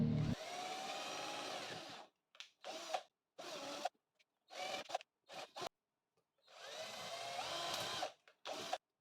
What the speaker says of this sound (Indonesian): kita gunakan mata bor ya. Kita lubangi sehingga nanti mata jigsawnya bisa masuk